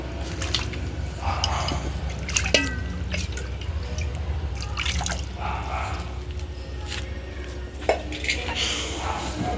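Hand-mashed tomatoes are stirred into a tamarind broth, giving wet squelching and dripping sounds with light clinks of a metal pot and utensil, close and moderately loud, with no speech.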